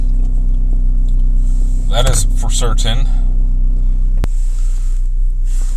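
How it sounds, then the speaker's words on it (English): A 2012 GMC Terrain strapped on a trailer idles with a steady, deep engine rumble and exhaust drone, constant and close, while someone speaks briefly over it. "Definitely hear an exhaust noise."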